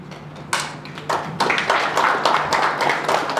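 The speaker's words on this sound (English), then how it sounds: "Again, a round of applause to our pastor." A crowd at a Zimbabwe awards ceremony applauds its pastor. Steady, dense clapping swells after a sparse start, close and loud, with a low hum underneath.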